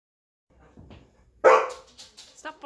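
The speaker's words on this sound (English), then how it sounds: "Stop barking." A dog indoors gives one sharp, loud bark followed by a few softer yips and whimpers, after some faint low rustling.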